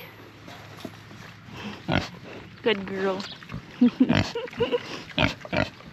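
On a homestead, a pig gives a few short oinking grunts mixed in among people talking nearby, the animal sounds close and fairly loud against an outdoor background.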